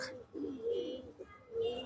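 A male pigeon coos close by in a few low, throaty bursts, with a pause before a final coo.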